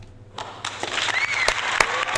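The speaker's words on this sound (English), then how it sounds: "I think I will give her a round of applause." A round-of-applause sound effect starts abruptly and continues as a dense, steady patter of many clapping hands at moderate loudness.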